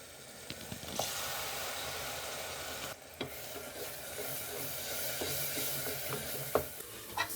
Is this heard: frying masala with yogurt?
yes